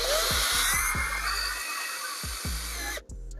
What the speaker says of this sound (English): I'm gonna start drilling underneath, finding spots to drill using the pilot holes